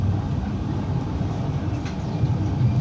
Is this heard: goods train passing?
yes